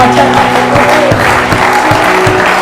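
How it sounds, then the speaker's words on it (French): A church congregation applauds during a Sunday service, dense steady clapping from many hands filling the room, with a low sustained musical tone underneath. "Est-ce qu'on peut lui donner une acclamation ce matin?"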